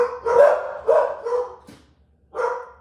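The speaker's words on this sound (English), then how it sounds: "Dogs." Several dog barks close by, three quick woofs in a row, then a pause and one more bark, with faint low background hum.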